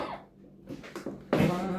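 A single harsh cough close by, preceded by quieter breathy throat sounds.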